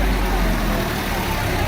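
A John Deere tractor engine runs steadily up close, a loud, continuous low rumble with broadband noise that holds for the whole short stretch.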